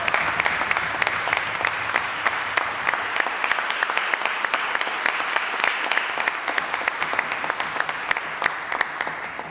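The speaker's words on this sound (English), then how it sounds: "How about another big round of applause for Jim?" Steady audience applause fills a theater-style venue after a young performer's presentation, dense clapping holding at an even, fairly loud level for the full span with no voices over it.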